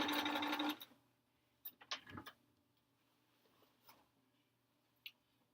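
A sewing machine joins bulky quilt blocks for a sampler quilt with one short, loud burst of stitching. Faint clicks and handling taps follow in near quiet.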